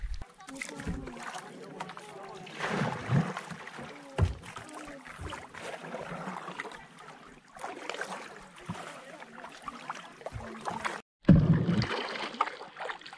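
Kayak paddling on the Mała Panew river in Poland, with soft irregular paddle dips and water swishes close by, intermittent voices talking over the quiet flowing water.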